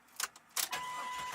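A Jeep Cherokee XJ engine cranking and catching, with two brief starter bursts followed by the engine firing and settling into a steady idle, heard close up with no talk.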